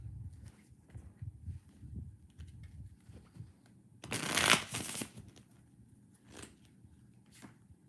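A deck of oracle cards is shuffled in one quick, crisp riffle lasting about a second, surrounded by soft handling rustles and faint taps in a quiet room.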